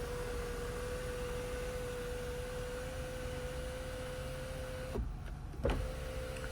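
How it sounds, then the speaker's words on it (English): A 2008 Ford Escape Limited power sunroof slides open with a steady electric motor whine heard close inside the cabin, then stops with a short clunk and a brief second movement. "this vehicle does have a sunroof as well. I can demonstrate the operation."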